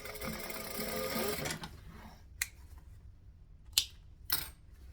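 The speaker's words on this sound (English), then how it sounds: "line it all up, stitch, back stitch, over we go" A sewing machine stitches through a bag in a fast, buzzing run, then stops; a few sharp clicks and taps follow as the fabric is handled.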